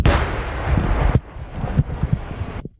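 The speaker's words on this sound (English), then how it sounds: "The nearby explosions make the cameraman a bit nervous." Nearby explosions from a frontline artillery battle in Ukraine: one heavy, loud blast followed by sharp thumps and another impact, all close and booming with no talk.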